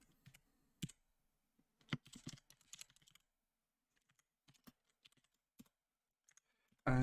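Python code being typed on a computer keyboard, with scattered bursts of close key clicks and short pauses between flurries, no voice.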